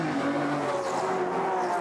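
An Aston Martin V12 GT3 race car at Bathurst holds a steady, tonal engine drone at moderate distance, the pitch sustained and smooth throughout.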